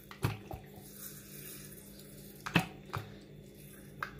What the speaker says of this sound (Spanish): todo me está salpicando eso